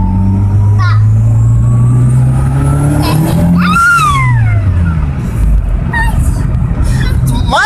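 A turbocharged car engine revs and climbs as it accelerates from a stop at a traffic light, with a rising whine and road noise heard from inside the car while people talk over it.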